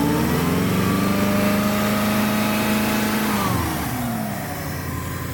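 A 1994 Subaru Legacy Turbo wagon engine, recently fixed for exhaust leaks, runs loud and close, holding a steady rev before the pitch drops as it eases back toward idle.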